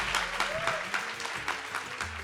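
Brief applause from a small live audience for writer Cidinha da Silva after a talk, a close, even clatter of clapping hands with faint voices underneath.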